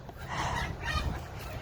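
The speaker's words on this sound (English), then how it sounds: "we have a chicken fight going on" Chickens scuffle and cluck nearby in a brief, agitated squabble with overlapping throaty calls.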